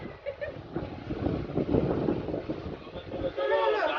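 Rumbling, rattling rail noise of a moving train in Kolkata with people talking nearby, steady and moderately loud throughout.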